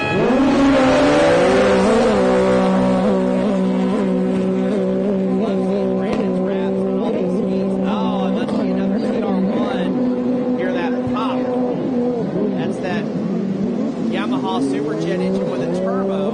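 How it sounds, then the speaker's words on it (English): Racing jet skis with turbo Superjet engines, loud and close, droning and whining as they hold speed, with an announcer talking over the roar throughout. "Superjet engine with a turbo."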